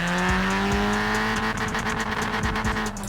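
A 1983 MK1 Golf GTI's engine in Forza Horizon 4 pulling hard in first gear, a steady rising harmonic drone that climbs in pitch, loud and close, with brief rhythmic ticks near the end.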